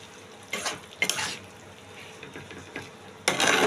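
Shrimp and raw banana in a mustard dish being stirred in a pan with a utensil, giving a few scraping bursts over a faint steady sizzle, with a louder stirring burst near the end.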